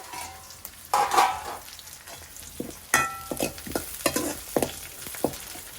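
Onions frying in a pan for chicken kurma, a low crackling sizzle punctuated by several distinct scraping stirs and utensil knocks, near and moderately loud.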